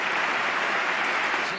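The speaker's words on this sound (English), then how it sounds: "And then the politicians applaud themselves for their generosity." Politicians clap for themselves in a large room, a steady wash of applause from many hands, loud and even throughout, fading slightly at the end.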